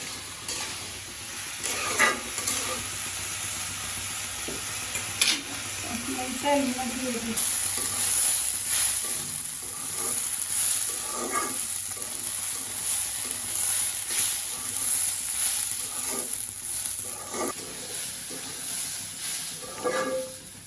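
Rice being dry-fried in oil in a pan for a Natore-style rice dish, steady sizzling hiss with repeated scraping strokes of a stirring utensil throughout, fairly close and continuous, no talking.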